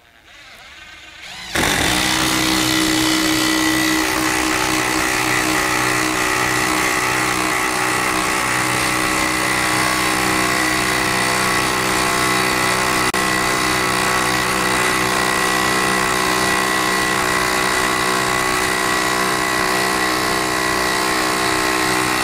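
A Ryobi One+ HP compact impact driver spins up and runs without a break for about twenty seconds as it drives a screw, a loud, steady motor whine close by, with no talk over it.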